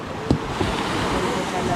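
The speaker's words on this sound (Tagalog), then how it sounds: "Yan, laki pa ng alon." Large waves wash and slap around a small wooden fishing boat at sea, a continuous loud surf roar mixed with wind buffeting the microphone and a couple of brief splashes, with no talking.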